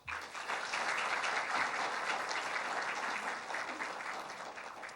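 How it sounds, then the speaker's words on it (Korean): An audience at the opening of the 3rd Software Industry Protection Awards ceremony claps warmly. The applause is steady and dense, rising quickly and continuing for several seconds with no talk over it. "여러분들의 뜨거운 박수 소리와 함께"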